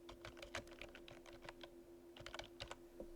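Someone types a full name on a computer keyboard, a quick run of crisp key clicks with a brief pause before a second burst, close and fairly quiet.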